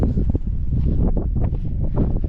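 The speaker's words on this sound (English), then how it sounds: "It is windy, and then it's not windy, but then it gets really windy." Wind gusts across Utah's West Desert, buffeting the microphone with a low, continuous roar and rumble that swells and eases in irregular pulses, loud and close with no voices.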